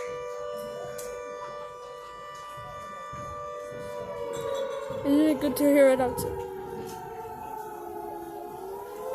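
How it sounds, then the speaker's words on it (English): A civil defense air raid siren in Malta wails steadily outdoors, a sustained rising-and-falling tone heard at a distance while people talk nearby. "It's been 1 minute and 14 seconds, and the siren still hasn't stopped."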